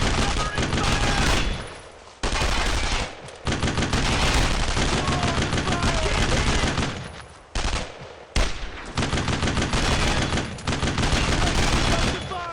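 Sustained gunfire from a World War II firefight against German paratroopers in Brothers in Arms: Road to Hill 30, with rapid machine-gun bursts and rifle shots loud and nearly continuous, broken by a few brief pauses.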